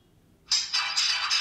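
A feature phone switching on plays a bright, buzzy electronic startup tune in several pulsing bursts, starting abruptly after a quiet moment and continuing to the end.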